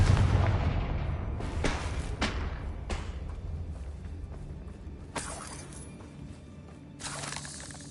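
Fiery spell blasts in Hogwarts Legacy go off as a run of sharp cracking booms with a shattering edge, several bursts spaced irregularly, loudest at the start and fading into quieter crackling between hits.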